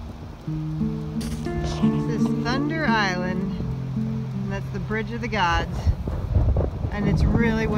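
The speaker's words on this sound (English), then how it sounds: "It's really windy" Strong outdoor wind buffets the microphone on a Pacific Crest Trail hike, a low rumbling roar that swells and gusts throughout while a person talks over it.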